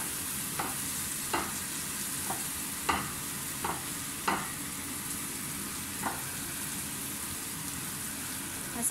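Onion, garlic and tomato sauté in a pan with a soft, steady sizzle. Distinct spatula scrapes fall at spaced intervals, roughly one every second or so.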